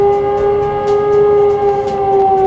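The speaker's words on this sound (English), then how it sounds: "As soon as you hear emergency siren in management or employees' colony" A steady emergency siren at an Engro Fertilizer plant wails continuously with a fixed, piercing tone, loud and unbroken, over faint background rumble.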